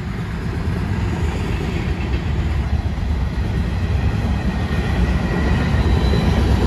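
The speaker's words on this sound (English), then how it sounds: "I think I see two diesel locomotives but coming up behind." A BNSF mixed freight train hauled by two diesel locomotives rolls past in a downtown area, a loud, steady rumble of wheels and cars that holds for several seconds with faint clickety-clack and no voices.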